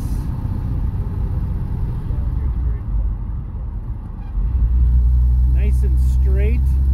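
A 1937 Plymouth Coupe with a front disc brake conversion drives along at about 45 mph, its engine and road rumble steady throughout and someone talking over it.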